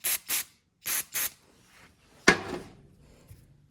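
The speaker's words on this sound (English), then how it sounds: "You don't need that much brake clean for this little thing." Brake cleaner sprayed onto a small lawnmower carburetor: four short hissing aerosol bursts in two pairs, close and clear, followed by a sharp clack of a part being handled and faint shuffling.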